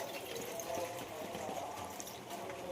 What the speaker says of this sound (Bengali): অল্প করে জল দিয়ে দিলাম।